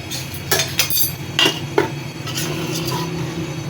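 A spoon scrapes and clinks against a pot while stirring a thick mashed turnip mixture seasoned with spices and green chillies; a few sharp metallic taps stand out over a low steady background.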